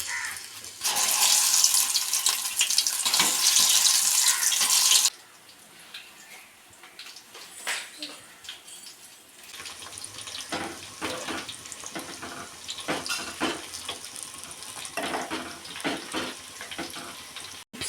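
Sliced raw banana chips frying in hot oil in a kadai, a loud dense sizzle that surges for the first few seconds, then drops to a softer crackling bubble that continues with scattered pops.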